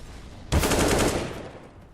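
Rapid AK rifle burst in CS:GO: a sudden loud volley of close gunshots, about eight quick cracks in a tight rhythm over under a second, then a fading echo.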